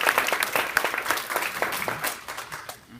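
Audience applause for a young student at a live-streamed company event, a steady crowd of hands clapping at close range for about three seconds, thinning out toward the end.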